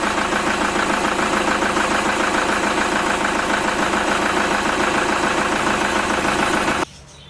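A broken pickup truck engine idles steadily, a loud, even mechanical drone with a rhythmic knocking pulse running close to the mic, then cutting off abruptly near the end.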